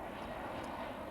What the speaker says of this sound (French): se posent en toute sécurité.